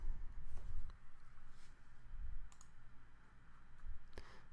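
A computer mouse clicks OK on a software prompt in a financial-system maintenance tool, giving a few quiet, sharp, isolated clicks spaced seconds apart over a low room hum.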